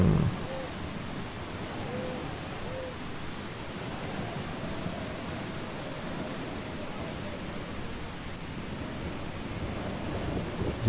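Steady rain pours with low thunder rumbling in the video game Eastshade, a dense continuous wash that holds an even level throughout with no clear pauses.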